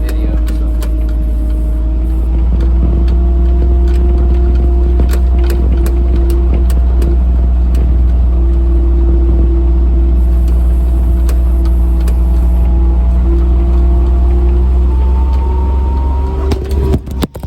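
A car driving on a rural farm road after hurricane damage, its steady engine drone and tire rumble continuous and loud throughout, with a faint rise in pitch near the end as it accelerates.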